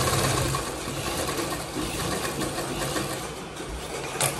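A sewing machine runs a straight seam on a little girl's long gown, giving a fast, continuous, close mechanical whir and rattle without pause. No one speaks.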